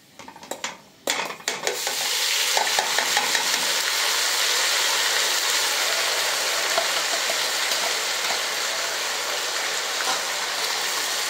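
Onion paste drops into meat frying in a pan: a few wet clunks and scrapes, then a loud steady sizzle that holds close and even, with light stirring and no voices.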